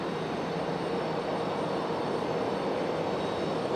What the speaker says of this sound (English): Here's our Delta A220.